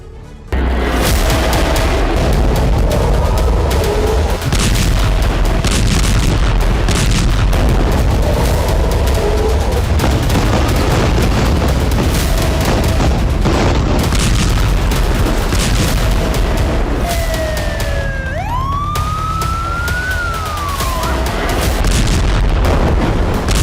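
Heavy bomb blasts from an Israeli airstrike on Gaza, repeated loud booms and rumbling over a sustained roar, with a rising and falling whistle-like tone near the end.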